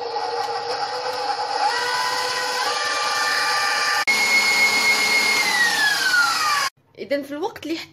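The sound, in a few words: electric mixer whipping egg whites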